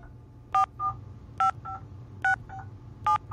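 Four crisp cell phone keypad tones beep at an even pace, each followed by a softer blip, over a quiet low background hum.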